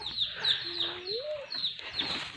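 Chicken clucking at close range, repeated short sharp clucks over a busy rural background with faint voices nearby.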